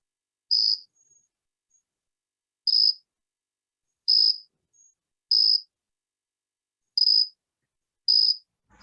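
An orthopteran insect that is not a cricket calls from red cedars about four feet off the ground on Martha's Vineyard, giving six short, high, buzzy bursts under a second long, spaced one to two seconds apart, clear against silence.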